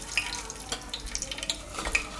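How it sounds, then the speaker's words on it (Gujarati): Half a teaspoon of mustard seeds dropped into hot oil for a Gujarati tempering crackle and pop in scattered bursts over a soft, steady sizzle, close and fairly quiet. "અને હવે તેલ આપણું ગરમ થઈ ગયું છે. તો આમાં આપણે રાઈ નાખશું"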